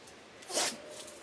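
A single short sneeze, a quick sharp burst in the middle of a quiet garden scene, faint and somewhat distant with no talk around it.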